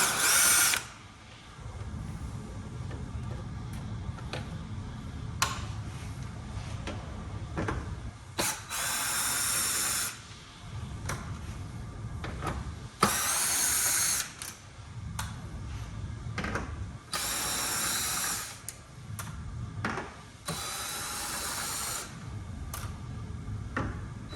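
A power tool with a 10mm socket spinning out bumper screws on a Subaru Impreza WRX, several short whirring bursts separated by pauses and small clicks, close and fairly loud, with no talking.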